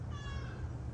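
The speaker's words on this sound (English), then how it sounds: "the peanut butter cat outside." A cat meows outdoors in a single drawn-out, moderately loud call over steady low background rumble, with no talking.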